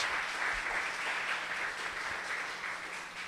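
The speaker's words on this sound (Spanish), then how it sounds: "Dele fuerte el aplauso al Rey por eso." A church congregation claps at a sermon, a soft, even patter of applause heard from a distance.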